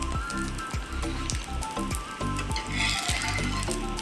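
Breakfast food fries in oil, a dense crackling sizzle with rhythmic bubbling pulses roughly every half second, loud and close, no talk.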